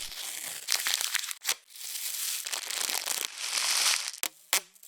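Paper from a field recording for a sample pack: loud, close crumpling and crinkling that runs steadily, broken by sharp tearing snaps and a few abrupt pauses, with no voice.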